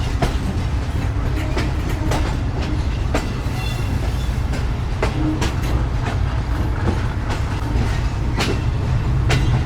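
The Pak Business Express, running with new coaches, rolls along the rails with loud, continuous rumble and rhythmic clickety-clack of wheels over joints, heard close from on board with no one talking.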